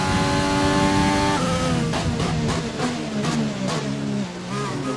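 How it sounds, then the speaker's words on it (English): A Jordan with a Renault F1 engine revs on a wet track in F1 2020, a loud, high-pitched engine note that holds steady and then drops and wavers in pitch as throttle is cut and reapplied. "This car is very, very difficult to drive."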